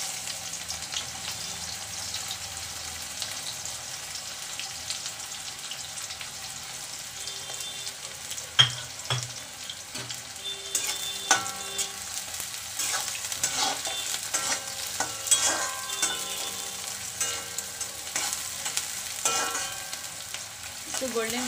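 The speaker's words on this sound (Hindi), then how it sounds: "तेल देखिए हमारा गर्म हो चुका है, अब इसमें दो मीडियम साइज की प्याज को डाल देंगे।" Two medium-sized onions frying in hot refined cooking oil for a dhaba-style chana dal, a steady close sizzle with occasional stirring scrapes and clinks throughout, no talking.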